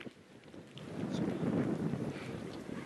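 Strong wind buffets the microphone outdoors on Iceland's Golden Circle, a low rumbling roar that swells and stays heavy through the moment, with no clear speech.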